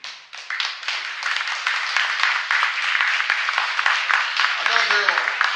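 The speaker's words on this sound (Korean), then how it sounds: "회장님 잠깐 모실 때 큰 박수 부탁드리겠습니다" Big round of applause from an audience welcoming the chairman of Jangsu Stone Bed at a gathering, building quickly into steady crowd clapping, with a voice speaking briefly near the end.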